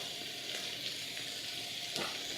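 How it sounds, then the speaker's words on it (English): Onions sauteing in a pan give off a steady, soft sizzle at close range, with a couple of faint stirring scrapes and no one speaking. "the onions are sauteing very nicely here"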